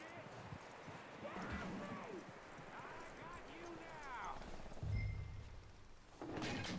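Horse hooves clopping in the open-world western game Red Dead Redemption 2, a soft, steady trot under game ambience, with someone talking over it throughout and a few louder thuds toward the end.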